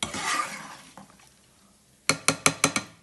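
Cooked chicken stirred into a pastilla filling, soft scraping at first, then five quick evenly spaced metallic taps of a utensil against the pan or bowl.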